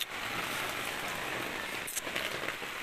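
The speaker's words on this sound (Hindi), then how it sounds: "बारिश इतनी ज़्यादा हो गई है ना कि सारा पानी ऊपर जमा हो गया।" Heavy record rain pours in a steady, dense hiss with a brief clatter near the end, no voices over it.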